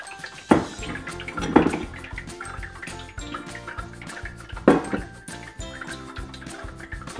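Liquid with fruit pulp poured and dripping through a flour sieve, a steady watery trickle with a few louder splashes and drips, close by, no talking.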